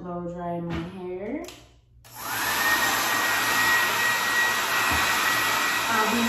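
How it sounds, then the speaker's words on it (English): A hair dryer switches on and blows steadily while drying hair, a loud continuous whooshing hum that follows a brief spoken line. "Now I'm gonna blow dry my hair."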